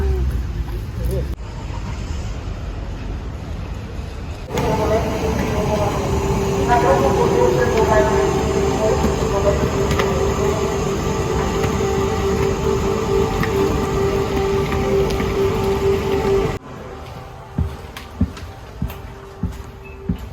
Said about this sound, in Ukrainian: Я вже в поїзді